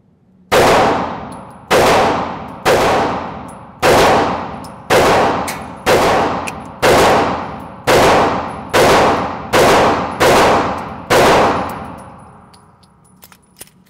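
HK CC9 pistol fired at a shooting range: eleven loud, close shots in an even, deliberate rhythm about a second apart, each ringing out and decaying before the next.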